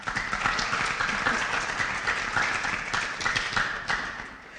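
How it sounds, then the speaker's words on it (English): An audience at an annual meeting and appreciation awards gives sustained applause, a continuous even wash of many hands clapping that tapers slightly at the end. "if you'd like, we can give them an applause now"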